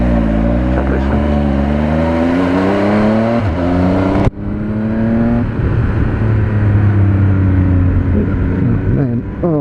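A 2018 Triumph Speed Triple RS motorcycle engine revs loudly and steadily, with pitch rising and falling through gear changes and a sharp blip on a downshift midway, close to the rider with wind noise.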